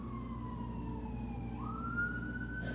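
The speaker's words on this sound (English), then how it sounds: "I'm gonna let the siren pass." An emergency siren wails steadily, sliding down and then up in pitch over low road rumble, fairly distant and not very loud.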